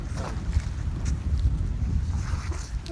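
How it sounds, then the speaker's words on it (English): Strong wind buffets the microphone at a sandy beach by a holiday park at St Osyth, a steady low roaring rumble with surging gusts throughout and no talking. "Very windy."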